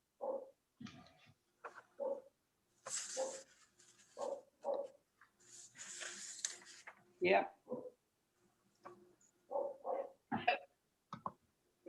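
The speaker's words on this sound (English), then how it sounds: "I still hear the dog." A dog barks intermittently in the background of an online board of directors meeting, with short bursts scattered among voices talking over the call.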